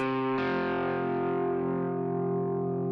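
A perfect fourth rings out on guitar through a distortion effect. A second note enters early and the two sustain together, decaying slowly over a few seconds with no talk.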